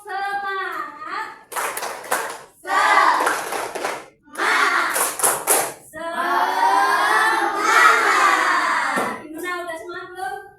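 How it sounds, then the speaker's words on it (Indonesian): Schoolchildren in a classroom perform a rhythmic clapping chant, bursts of clapped beats alternating with sung and chanted voices, loud and close. "Yuk kita tepuk semangat dulu ya"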